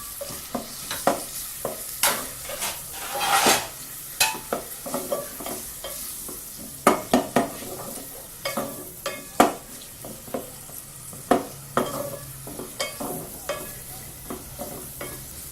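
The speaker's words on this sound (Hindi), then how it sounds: "½ कप ऑयल के अंदर ये आपने प्याज शामिल करके इसको 2 मिनट खाली हम सॉफ्ट करेंगे" Onions softening in half a cup of hot oil for a palak chana dal, with a steady sizzle under repeated close scrapes and clacks of a spoon stirring the pan.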